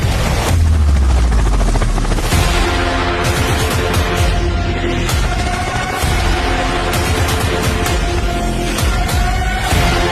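A loud, steady rotor roar from a Chinese Z-10ME attack helicopter with dense low thumping and bursts of sharp, crackling impacts layered over it throughout.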